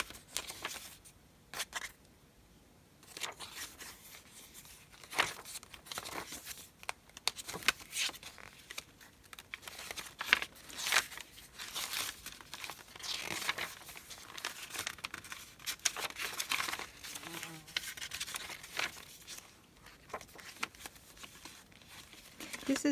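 Sheets of eco dye printed paper are handled, giving irregular crinkling and rustling bursts up close, fairly quiet, with brief pauses between movements.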